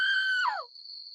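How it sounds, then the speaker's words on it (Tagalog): A woman screams from outside, a single sharp high cry that breaks and trails off into a thin lingering tone, heard alone and fairly loud. "May babaeng sumisigaw."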